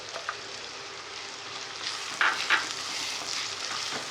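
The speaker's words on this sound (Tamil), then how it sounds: "அதனால நான் கொஞ்சம் தக்காளி சாஸ் விட போகிறேன்." Fresh tomato paste hits a hot pan and sizzles in a steady close hiss, with two brief metallic clinks of stirring partway through.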